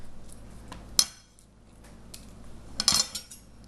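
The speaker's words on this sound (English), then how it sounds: "We're gonna crush the garlic clove." A garlic clove is crushed on a kitchen surface, heard as two sharp clacks of a metal utensil striking the board among quieter handling noises.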